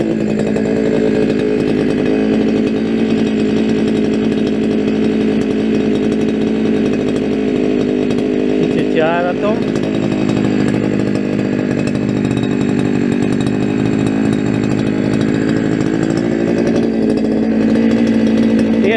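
Petrol brush cutter running steadily at a high, buzzy engine pitch, loud and close, with a brief rise in revs midway; the same model as a second machine but with a different tone, started for the first time this year.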